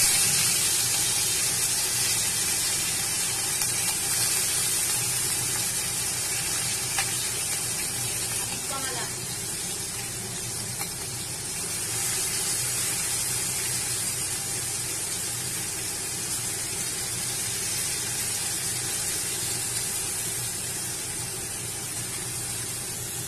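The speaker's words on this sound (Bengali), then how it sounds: "এবার এগুলো কড়াতে তেল নিয়ে নিয়েছি ভাজবো" Singi stinging catfish, rubbed with salt and turmeric, frying in oil in a wok, giving a steady, dense sizzle and spatter that holds fairly constant throughout.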